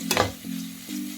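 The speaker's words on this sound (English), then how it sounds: "Let's give it a nice stir." A spoon stirs pasta sauce with chili flakes in a pan, giving a short scraping, sizzling sound in two or three quick strokes, close and clear with no talk.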